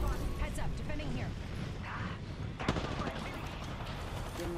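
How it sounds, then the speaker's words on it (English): Gunfire in a shooter video game, a dense, continuous clatter of shots mixed with game sounds, moderately loud and steady throughout, with voices talking over it. "Getting shot at. Taking fire!"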